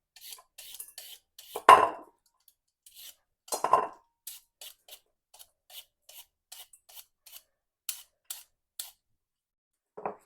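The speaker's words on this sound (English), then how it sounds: "we are going to just peel our carrots and put them in at the skins into a bowl" Carrots peeled by hand over a bowl, the peeler giving short, soft scraping strokes in an uneven rhythm, with a couple of louder rasps early on, close and quiet.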